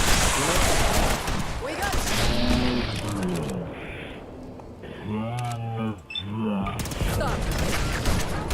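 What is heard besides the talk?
gunfire and grenades in Sim Settlements 2 video game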